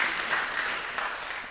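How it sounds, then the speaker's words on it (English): An audience at a college event's panel session claps in a fairly quiet, even wash of applause for a young participant, steady throughout with no speech on top. "we should give a further applause to this young man"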